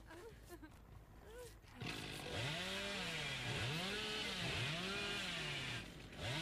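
A chainsaw revs loudly up close, its engine pitch repeatedly swooping up and down in several surges over a constant rough roar after a quieter start.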